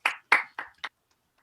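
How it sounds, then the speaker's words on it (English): An audience welcomes a performer onto the stage at a community event with four short bursts of clapping, loud at first and then thinning out, followed by silence. "a huge round of applause for Pux, please."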